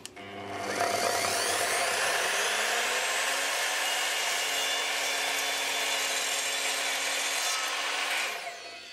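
An Evolution R255SMS 255mm multi-material sliding mitre saw cuts plastic decking: the motor spins up to a loud, steady high whine through one continuous cut lasting several seconds, then winds down, close by and without talk.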